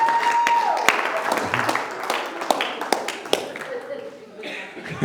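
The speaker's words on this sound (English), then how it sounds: "But can we give the actors a round of applause?" Seated audience applauding actors after an acted analogy, scattered claps and some chuckles mixed with talking voices, fading over a few seconds.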